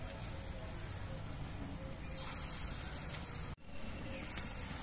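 Lentil fritters frying in hot mustard oil give a steady, dense sizzle and crackle throughout, briefly dipping once before resuming at the same level, with no talk over it.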